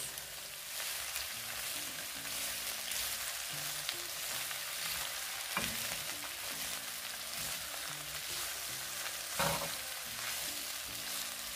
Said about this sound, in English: Get them nicely set sauteed in this little sauce that's in the pan